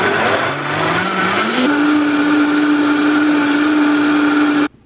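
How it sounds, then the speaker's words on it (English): A blender whirs loudly and steadily blending chocolate mousse, its motor pitch rising as it speeds up, then cuts off abruptly. "and blend until smooth"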